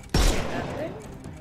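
A single loud gunshot blast from the Sherlock Holmes Chapter One video game, sharp and close, followed by a decaying reverberant tail with faint voice-like sounds in the background.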